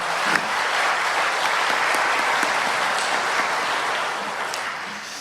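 Sustained applause from a church congregation during a Sunday service, steady clapping throughout that gradually tapers off toward the end.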